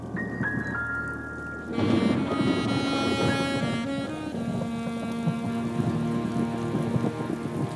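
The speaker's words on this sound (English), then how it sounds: "The winds would blow the clouds west, and the water would return as rain." Rain falls in the Big Cypress Swamp of the western Everglades as a steady, fairly loud hiss that swells after a quieter opening, with sustained tonal music layered over it.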